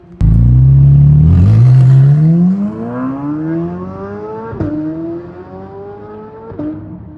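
Chevrolet Corvette C8 Z06 engine revving, a sharp loud bark at start then a deep bassy exhaust note climbing steadily through gear shifts with brief dips, strong and close, no talk over it.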